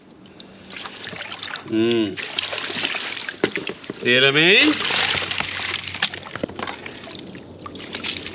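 Water pours and sloshes into a bucket of gold-bearing material with an uneven, continuous splashing, rising in two louder surges, while someone talks over it.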